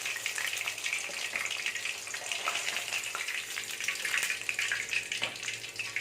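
Fish frying in hot oil in a home kitchen, a steady broadband sizzle and crackle running continuously at close range without pause.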